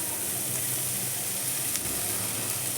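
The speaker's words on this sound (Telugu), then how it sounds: "కాకరకాయలు వేసేస్తాం" Small bitter gourds hit a hot oiled pan, producing a steady, dense sizzle and hiss that stays close and even throughout, with no talking.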